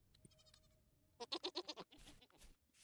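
A group of ibex in the video game Vintage Story bleats several times in quick succession, short wavering cries with a faint tone and clicks before them, fairly close and quiet, with no talking.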